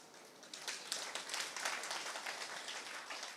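A lecture audience rises and claps together in a large hall, a dense, even wash of many hands that swells after the first half second and holds steady at moderate distance, with no speech over it.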